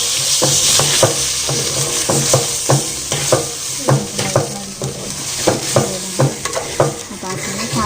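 Washed rice is stirred into hot oil in a cooking pot for jeera rice, with a steady sizzle and a regular run of scraping spoon strokes against the metal, close and clear.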